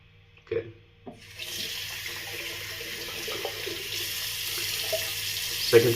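Cold water runs steadily from a bathroom tap during a wet shave, starting after a couple of knocks and continuing as a close, even hiss with a clunk at the end.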